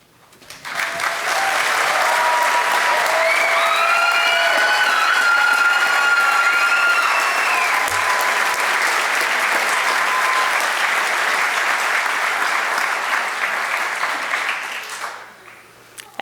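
A crowd at a school commencement ceremony applauds the graduating class in one long, loud, steady burst of clapping that rises quickly, holds for about fourteen seconds, then tapers off.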